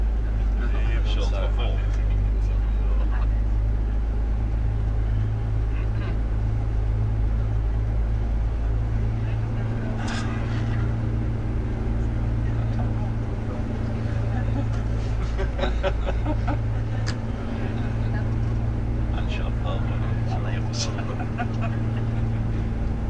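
A tour coach carrying passengers rolls around the Yas Marina Formula 1 circuit on Yas Island, Abu Dhabi, its steady low engine drone and road rumble continuous throughout, with people chatting aboard over the hum.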